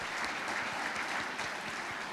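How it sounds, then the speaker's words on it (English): A crowd applauds President Gordon at a formal district ceremony, steady dense clapping filling the room for a couple of seconds without a break. "please join me in give Honorable President Gordon a round of applause"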